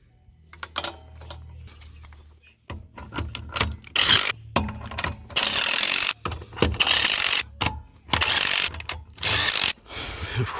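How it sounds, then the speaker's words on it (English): A hand ratchet tightens the wheel bolts after a broken coilover is fixed and the tire goes back on, giving quiet clicks at first, then several loud, close bursts of rapid clicking separated by short gaps. "Always torque your bolts down."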